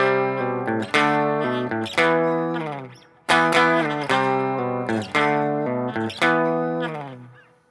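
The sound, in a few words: electric guitar with distortion playing a part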